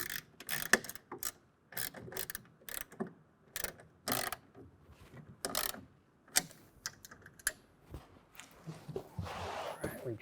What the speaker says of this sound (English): on the bottom, a 7/16 wrench or ratchet. Let me go ahead and tighten it down.